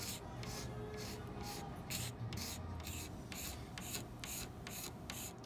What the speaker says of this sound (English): You're just scraping, and look at all that gunk that's coming up.